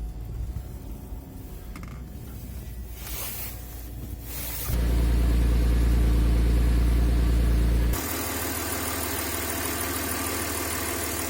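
A cold-started Audi A4 B5 with a 2.4-litre 30-valve V6 and sports exhaust idles at minus seven degrees Celsius, a steady low drone that swells noticeably louder for a few seconds before settling back to an even idle.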